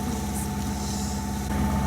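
A sailboat's motor runs steadily under way off the Kornati Islands of Croatia, a close, constant low engine drone with a mechanical hum and no break.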